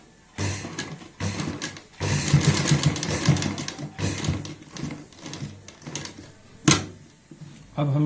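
A sewing machine stitches a cloth pollution mask in several bursts of rapid, rattling needle strokes, separated by short pauses and a sharp clack, close and fairly loud.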